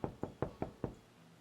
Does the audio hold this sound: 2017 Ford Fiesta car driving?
no